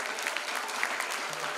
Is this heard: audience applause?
yes